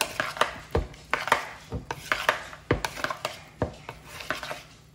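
Potato salad being mixed in a bowl, giving a run of repeated scraping and knocking strokes of a utensil against the bowl in an uneven rhythm, close and fairly clear with no talk.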